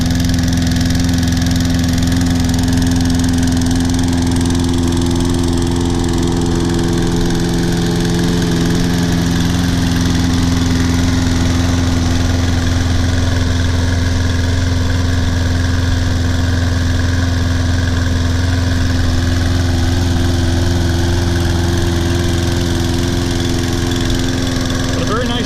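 Toro Personal Pace Recycler 20332 self-propelled lawn mower engine running steadily, a loud continuous drone with a strong low hum that holds without pause throughout.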